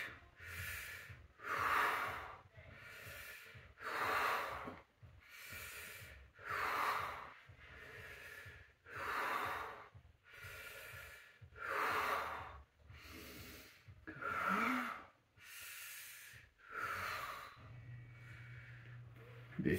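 Heavy, slow breathing during controlled ab exercises, eight or so deep audible inhale-exhale cycles in a regular rhythm, close and breathy with no speech over them.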